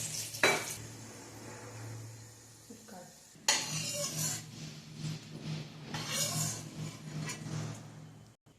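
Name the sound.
garlic frying in oil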